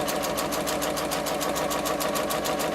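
A sewing machine quilts fabric strips with ric-rac trim, a fast, even rattle of stitching that runs continuously and close up with no pauses.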